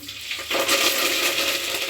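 Curry leaves hitting hot oil for tempering, with a sudden loud crackling burst that settles into a dense, steady sizzle close by, no voices.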